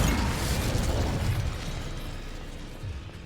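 An Incendio fire spell is cast in the Hogwarts Legacy video game, a loud, roaring burst of flame that hits at once and then fades slowly over a few seconds, with no voices.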